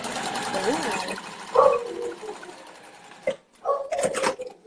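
A guard dog barks a few short, sharp times in a home sewing room, under a whirring sewing machine and a woman's speech.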